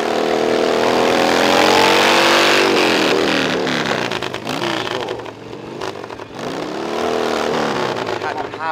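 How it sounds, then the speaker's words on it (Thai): A V-twin chopper motorcycle, No. 71, roars at high revs through a tire burnout at an open street event, its loud sustained engine note rising and falling with crowd and announcer noise mixed in. "ดูท่าเบิร์นยางครับ"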